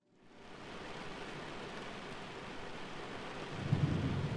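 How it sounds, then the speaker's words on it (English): A thunderstorm in the Go Home Annie horror game demo: steady hissing rain with a low thunder rumble building near the end, no talk. "Hell of a storm."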